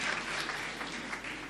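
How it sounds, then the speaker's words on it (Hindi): Applause for a guest at a poetry gathering in Bhiwandi, a soft, steady wash of many hands clapping at a distance, faint and even for a brief moment. "एक बार उनके लिए ज़ोरदार तालियां होनी चाहिए"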